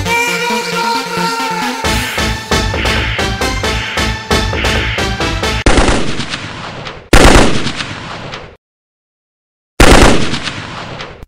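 Rapid automatic gunfire bursts in a Mortal Kombat parody scene, loud and close, with musical layers early on, then dense rattling volleys that stop abruptly, a short silence, and one final burst.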